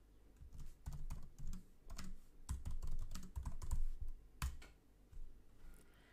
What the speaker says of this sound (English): Basically, you just type in the feature or system you want to build.